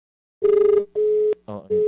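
Telephone rings in bursts during a Bicol radio call-in show, a steady tone with a warbling first burst followed by three more rings separated by short gaps, loud and close.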